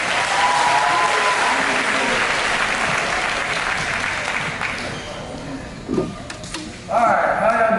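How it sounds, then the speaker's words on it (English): A large crowd at a basketball camp claps loudly and steadily for Steph Curry, the applause fading out toward the end as voices begin over it. "clap it up for Steph Curry"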